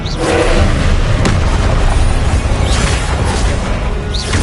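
Spell blasts from Confringo, Glacius and Incendio in Hogwarts Legacy boom and crash in a dense, loud, continuous barrage of overlapping explosive impacts with no clear gaps.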